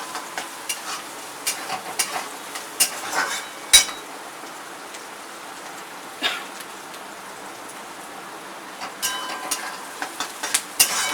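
Onions frying in a pan until reddish brown, a soft steady crackle under intermittent sharp scrapes and clinks of a spoon stirring against the pan.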